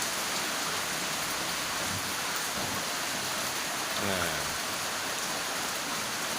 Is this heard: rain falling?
yes